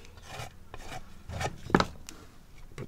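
Material scraped off a surface during a craft lacing project: a few short, faint rasping strokes spaced irregularly, one sharper scrape standing out, with no talking.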